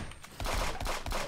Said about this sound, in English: they might have shotgunned me in the face